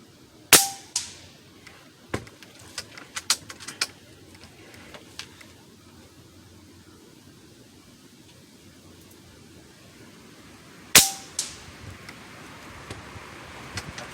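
Gunshots ring out on a range with sharp reports, a pair of loud close cracks about ten seconds apart and scattered fainter distant pops and impacts on a lead plate in between, set against steady outdoor hiss.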